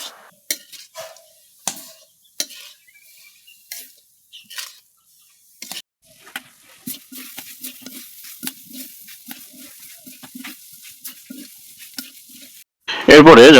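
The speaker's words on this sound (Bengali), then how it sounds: "বারবার এগুলো নেড়ে চেড়ে এর ভিতরে যে রস রয়েছে সেগুলো শুকিয়ে নিতে হবে।" Biryani jhal muri spice mix is stirred in a pan to dry out its moisture, with sharp intermittent scrapes and clinks early on, then a soft continuous crackle and rhythmic stirring, and a loud burst at the end.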